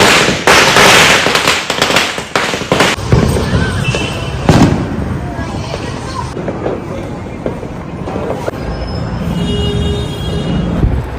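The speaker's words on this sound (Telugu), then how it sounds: "ఇంటికి వెళ్ళిపోయి క్రాకర్స్ కాల్చడం స్టార్ట్ చేసాం." Diwali firecrackers bursting at home after a temple visit, a rapid barrage of loud cracks and pops in the first seconds followed by scattered bangs, sizzling and crackle, with people talking faintly in the background.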